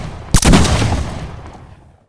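Gunfire in a Roblox team escape obby game, a sharp burst of several rapid shots up front followed by a booming, fading tail, loud and alone with no talking.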